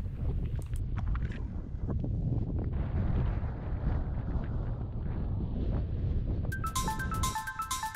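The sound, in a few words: wind blowing at mountain summit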